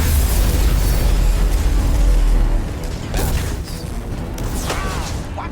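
Explosions and impacts strike a spaceship in the video game Mass Effect 2, with a loud, sustained rumbling blast easing after a few seconds, followed by creaking metal and sharp mechanical clanks.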